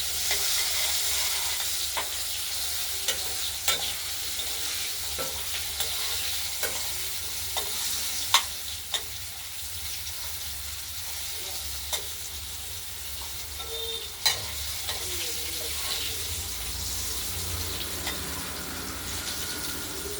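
Potato pieces dusted with turmeric fry in a pan for a cabbage curry, a steady sizzle broken by frequent scrapes and stirring clicks at close range, with no talk.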